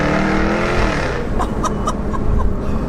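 2018 Jaguar F-Type R Convertible accelerating out of a corner, a loud, close engine roar rising with sharp crackles and pops from the exhaust.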